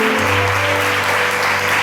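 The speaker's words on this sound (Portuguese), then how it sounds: "Dá uma salva de palmas para Jesus, que Ele merece." Church congregation clapping at an evening youth worship service, a dense, steady wash of applause filling the whole moment, with a low sustained hum running beneath it.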